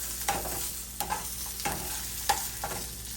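Sausage links tossed in hot oil sizzle steadily up close, with several quick scraping stirs recurring at a brisk rhythm.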